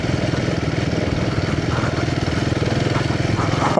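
Royal Enfield motorcycle engine running steadily while riding over rough, potholed ground on an off-road trip to Masuri Jheel, a continuous close low thumping drone with no pauses throughout.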